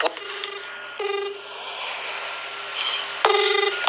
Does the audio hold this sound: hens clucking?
no